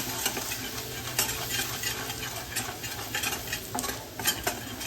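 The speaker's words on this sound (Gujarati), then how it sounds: "બે ચમચી જેટલો આપણે અને ચણાનો લોટ એડ કરી દીધો છે અને આપણે એને શેકવાનો છે" Gram flour roasts in a pan while a spoon stirs it continuously, making a close, steady sizzle layered with brisk scraping and occasional light metallic taps, with no talk.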